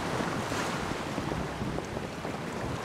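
A warship fleet sails against the wind at sea in the Empire: Total War naval Battle of Copenhagen. Wind and surging waves make a steady, dense roar throughout, with no voices.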